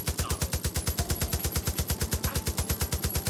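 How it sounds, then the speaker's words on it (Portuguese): Rapid automatic gunfire in the video game Far Cry 5, a loud, steady stream of evenly spaced shots continuing for several seconds. "De onde tá vindo tiro?"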